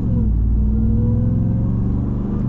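A Ram TRX pickup truck with a 700-plus horsepower engine pulling at part throttle, producing a steady, loud, deep rumble that stays constant throughout with no talk.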